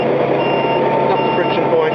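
A heavy truck with air bag suspension sits in reverse gear, giving off a steady, high electronic reversing tone over a low engine rumble, close by and constant throughout.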